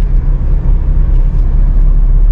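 A car driving steadily along a bumpy road with the driver shifting up to third gear, giving a continuous loud low engine and road rumble with no clear breaks.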